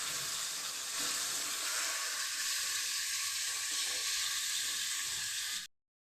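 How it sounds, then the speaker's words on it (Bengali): Turmeric-and-salt-rubbed fish fries in oil left over from frying eggplant in a wok, a loud, steady hissing sizzle that runs unbroken and then stops abruptly. "বেগুন ভেজে যেই তেলটা কড়াতে ছিল সেই তেলটার মধ্যে আমি মাছগুলি ভাজি"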